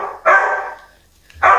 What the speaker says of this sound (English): And my dog is barking and it's hot.